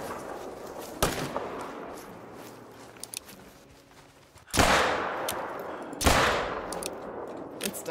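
Gunfire in a hunting video game: sharp, isolated shots ring out at intervals, a couple of loud blasts with trailing echo against a steady background rumble, with a few fainter clicks in between.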